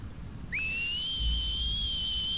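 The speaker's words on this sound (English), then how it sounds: "Yeah, whistle really loud." A loud, sustained human whistle in The Last of Us Part 2, starting abruptly with a quick rising pitch and then holding a clear steady tone for about two seconds, heard alone.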